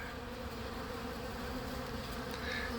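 A small ball of honey bees clustered on the ground, likely with a queen inside, gives off a steady, even buzzing hum that holds alone at close range and moderate loudness throughout.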